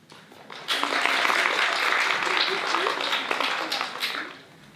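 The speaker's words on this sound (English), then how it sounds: "please clap when I come on the stage" A school audience at a Canterbury Tales stage show breaks into a short burst of clapping that swells quickly, holds for a few seconds, then fades, with some murmuring mixed in.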